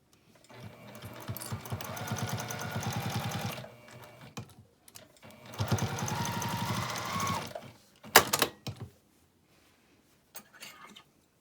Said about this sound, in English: we're just going to sew across that with a 1/4 inch seam